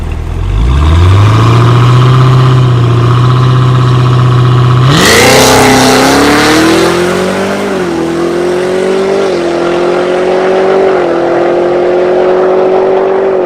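Cadillac CT5-V Blackwing, a 4,400-pound car on stock wheels with sticky rear tires, launching in second gear: a steady idle rises into a loud, sustained full-throttle engine roar that climbs through several upshifts, close and alone.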